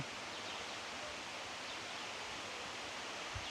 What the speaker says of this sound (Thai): คือน้ำตกชั้นที่หนึ่งก็จะอยู่บนยอดนี้เลย